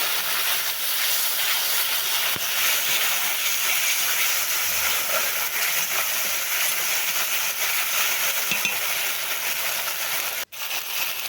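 Ground spice paste for a mustard rui fish curry sizzles in a pan, a steady, even frying hiss throughout with one sharp click near the end and no voices.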